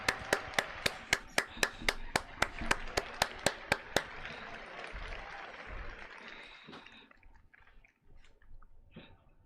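An audience at an EVO fighting-game event claps in a brief burst of sharp, evenly spaced claps, fairly loud, which quickly dies away into quieter room noise.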